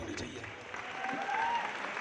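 Sustained loud applause from an audience at a direct-selling company recognition event, a dense steady wash of clapping throughout.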